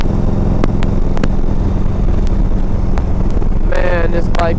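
A 1991 Harley-Davidson FLHTP motorcycle on a test ride, its engine droning steadily under loud, constant wind rush, with a voice briefly rising near the end.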